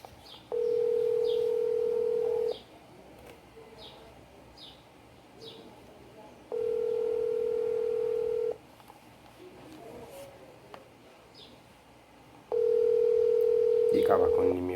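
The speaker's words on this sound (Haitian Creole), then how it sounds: "Téléphone n'a sonné." A telephone ringback tone plays while a call connects: three long, loud buzzes about two seconds each, separated by pauses, with birds chirping softly in the background.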